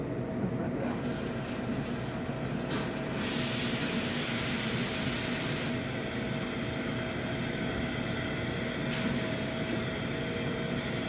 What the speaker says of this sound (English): we'll start the steam again because you still have time on your espresso.